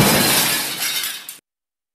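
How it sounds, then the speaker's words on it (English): Glass shatters with a loud crash, bright shards spilling and tinkling down onto the floor before the sound cuts off abruptly. "the sound of shattering glass, shards falling to the floor"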